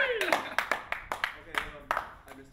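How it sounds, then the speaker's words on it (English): A few people clap in uneven, separate strokes at the end of an Irish dance show rehearsal, the claps sharp and fairly close, with a sliding tone at the start and voices faintly behind. "Just the clapping, just at the end."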